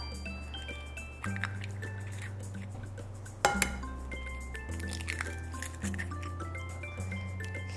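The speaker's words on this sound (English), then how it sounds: "now I'm going to add 2 large eggs" Two large eggs go into Halloween monster cookie dough in a bowl, and the mix answers with soft wet squishes, a drip and a sharp clink of a utensil against the bowl midway, under a steady low hum, quiet and close.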